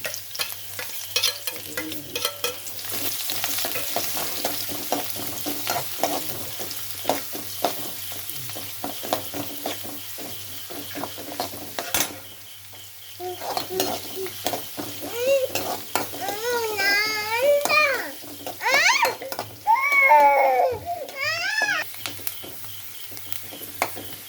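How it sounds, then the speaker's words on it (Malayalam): Fenugreek, garlic and ginger sauté in hot oil for a homemade mango pickle, giving a continuous close sizzle with stirring scrapes and clinks of utensil on pan, and birds chirping faintly in the background toward the end. "ഉലുവയും കൂടി ഇട്ട് വെളുത്തുള്ളി ഇട്ട് ഇഞ്ചി ഇട്ട് വഴന്ന് കഴിയുമ്പോഴത്തേനും"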